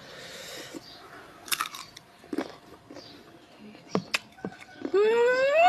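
Mango bitten and chewed up close in brief crunchy bursts, with short pauses between bites, ending with a rising squeal.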